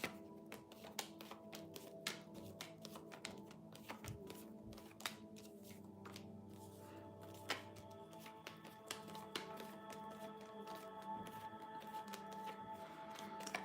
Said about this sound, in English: We're gonna do a shuffle on these.